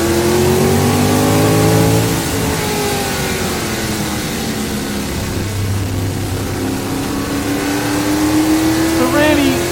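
A roughly 50-year-old Can-Am race car on track, its engine loud and close throughout, with revs rising and falling in sweeping surges as it accelerates and lifts between gears.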